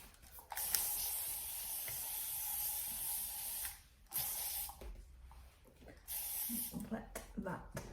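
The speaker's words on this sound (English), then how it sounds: "I want to put a bit of spray on." Long, steady hiss of an aerosol hair spray held for several seconds, pausing briefly, then a second burst with faint handling noises.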